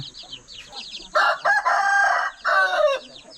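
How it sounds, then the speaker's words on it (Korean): A large rooster in a hillside village in rural Thailand crows loudly and close by in two strong bursts, with softer chirping of chicks and other birds in the background between calls. "여기 뭐 큰 닭이 있는데"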